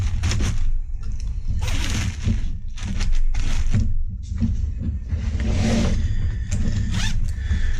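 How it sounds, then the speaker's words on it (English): A cheap Pittsburgh 3/8-inch drive ratchet with a 5-degree arc swing clicks close by in repeated short bursts of rapid metallic ratcheting, separated by brief pauses. "This is a decent ratchet, 5-degree arc swing,"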